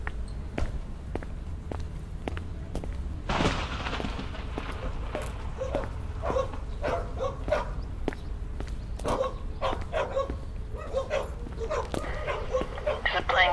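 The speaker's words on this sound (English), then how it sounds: "Dogs are barking somewhere." Dogs bark somewhere in the distance, sharp yaps coming and going through the clip, mixed with nearby footstep-like taps and a brief burst of rustling noise.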